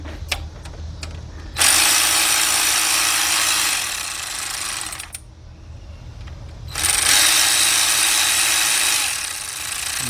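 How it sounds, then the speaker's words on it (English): A ratchet tightening the oil pan bolts on a 2005 Cadillac CTS 3.6 under repair for engine knocking: a few quick clicks, then two sustained, loud whirring bursts of a few seconds each, heard close with a short gap between them. "get my ratchet"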